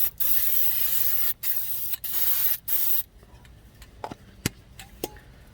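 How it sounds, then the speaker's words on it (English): Fluid Film lubricant sprayed onto front brake parts of a 2005–2010 MK5 Jetta during a pad and rotor job: four loud hissing bursts over about three seconds, separated by short pauses, then quiet handling clicks and taps. "I like this fluid film. I spray everything with it."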